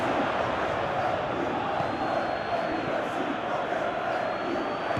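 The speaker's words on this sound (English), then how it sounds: "Crowd appreciates good football all round there." A dense, steady crowd roar fills a simulated Premier League football match between Chelsea and Manchester United, sounding distant and even throughout with no distinct peaks.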